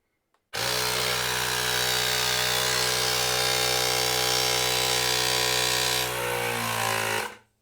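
A Parkside 20V cordless compressor inflating a tyre runs loudly and steadily for about seven seconds with a constant motor drone and buzzing hum, then cuts off abruptly.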